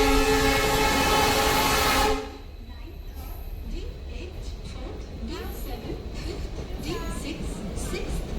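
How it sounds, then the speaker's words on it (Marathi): A Konkan Railway passenger train opens with a loud, sustained horn blast, then settles into a steady rumble and rhythmic clatter of wheels on track as it runs. "तर आता हा पुढचा प्रवास आपण डायरेक्ट ट्रेनमध्ये चालू करू."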